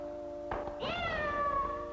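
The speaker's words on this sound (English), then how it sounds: "I stepped on my cat's tail." A cat yowls loudly after its tail is stepped on, a single drawn-out rising-then-falling screech close up, preceded by a brief thump over a steady background tone.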